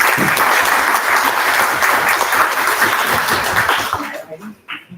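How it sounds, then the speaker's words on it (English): An audience at an academic talk on rural Indian solar grids gives a dense, sustained round of applause that fades out over the last second, leaving a few scattered claps. "Can we give him a big round of applause?"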